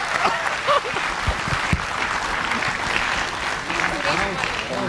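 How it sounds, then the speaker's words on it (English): Crowd applause at a fashion show fills the clip, dense steady clapping with voices talking and calling out over it throughout. "keep the applause going. Come on, let's clap for them."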